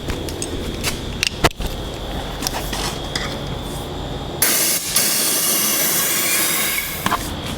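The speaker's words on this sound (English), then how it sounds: "I've been using just a bit of compressed air to blow it out from the other side." Compressed air blowing rust out of an outboard motor's tilt tube: a loud, steady hiss bursts in about halfway through and holds, after scattered clinks and taps.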